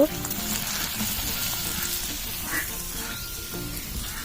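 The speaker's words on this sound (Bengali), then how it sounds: "পুরটা বানানোর জন্য আমি কড়াইতে তেল দিয়ে দিলাম। এবার পেঁয়াজগুলো দিয়ে দিব।" Onions frying in hot oil in a kadai give a steady, moderately quiet sizzle with a few soft scraping touches, continuous and close.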